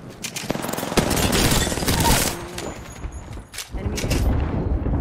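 Gunfire erupts in a shooter video game as rapid automatic bursts and overlapping shots. It is loud and close, with brief gaps between volleys.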